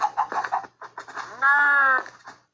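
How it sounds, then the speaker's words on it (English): Minecraft farm animal calls overlap: short chicken clucking bursts followed by a long, strained cow cry, close and fairly loud, with a low steady hum underneath. "we got cows, we got chickens"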